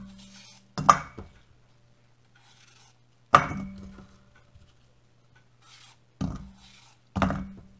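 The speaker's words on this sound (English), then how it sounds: "And then as I go to slice up my apple from there" Knife slicing through an apple on a cutting board, four sharp cuts landing at uneven intervals, each a crisp knock with a short tail, close and alone against a quiet room with a faint low hum.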